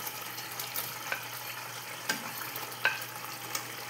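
Paneer pieces fry quietly in a pan, a soft close sizzle with a few sharper spits and crackles scattered through, no voices.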